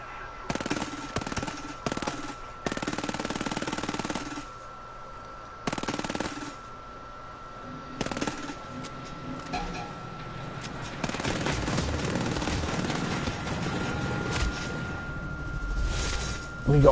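Rapid bursts of automatic gunfire in the shooter game Ghost Recon come in repeated chattering volleys with short gaps, loud and close, while someone talks throughout.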